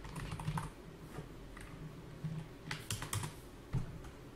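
Fingers tap on a computer keyboard in short irregular bursts of close, quiet clicks, with brief pauses between keystrokes and a slightly louder tap near the end.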